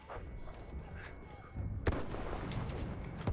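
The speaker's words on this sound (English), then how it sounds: "Some bloke's just firing just some kind of shotgun shell thing at me" Shotgun fire in Battlefield 1 at a low level, with a sharp blast about halfway through followed by rumbling battlefield noise and scattered distant shots.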